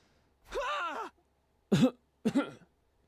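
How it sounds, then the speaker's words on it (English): Three short throaty coughs from a sick character in The Hundred Line: Last Defense Academy video game, with pauses between them, the first drawn out and groaning, the next two quick and sharp, close and fairly quiet. "I keep coughing."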